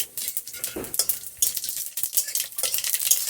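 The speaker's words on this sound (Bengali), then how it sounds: "তো এখানে দিয়ে দিব শুকনো লঙ্কা ফোড়ন দিয়েছি, আর দিয়ে দিব এখানে সরষা আর মৌরি।" Dry red chillies, mustard seeds and fennel seeds sizzle in hot oil in a pan for a Bengali spinach chutney, with close, steady crackling and spattering and a few stirring scrapes throughout, no talking.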